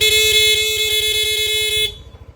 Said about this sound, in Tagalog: ang kinabit natin dito, PIAA auto style horn, dual on setup, stock horn selector